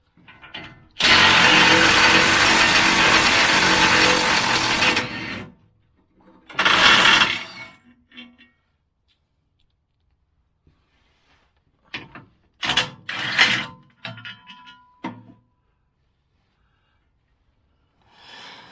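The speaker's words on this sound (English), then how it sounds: "we're going to remove these bolts and drop the skid pan down" Tool work removing skid pan bolts on a Jeep Wrangler JKU, beginning with a long loud burst of about four seconds, then shorter scattered bursts and clanks separated by silence.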